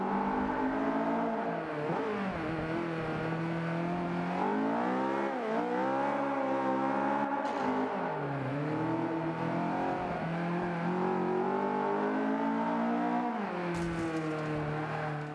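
Race car engine in Forza 5 on the Long Beach circuit, a loud continuous roar that rises and falls through gear changes and revs, sustained throughout with no talk.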